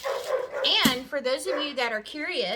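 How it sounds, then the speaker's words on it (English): Dogs, six-month-old Labrador puppies, bark in the background outside, a few short yips and woofs under a person talking close to the microphone. "Sorry if you hear my dogs barking in the background."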